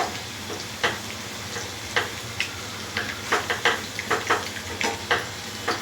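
Spinach leaf bhaji frying in hot oil, a steady broad sizzle with a string of sharp crackling pops and ticks recurring every half second or so, close and moderately loud with no voices.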